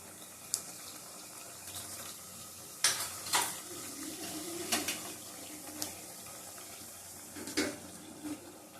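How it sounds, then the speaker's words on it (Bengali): White cumin seeds fry in oil on a home stove, a faint steady sizzle with scattered sharp crackles and a few pops over about nine seconds. "জিরেটা ভালো করে ভেজে নেব।"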